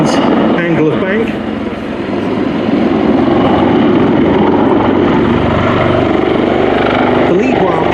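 A pair of Royal Navy Wildcat helicopters pull 360-degree wingovers at an airshow, a loud continuous rotor and engine roar with a rising and falling pitch as they bank, while a voice talks over it.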